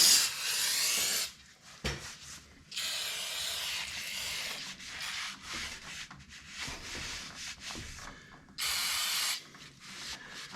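Brake cleaner sprayed on parts of a 1950 BSA B33 motorcycle in a closed garage, long close hissing bursts broken by short pauses and faint scrubbing.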